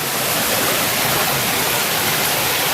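Water sloshing and rushing steadily as someone wades through a flooded area, a dense, continuous broadband wash close by with no pauses, loud and even throughout.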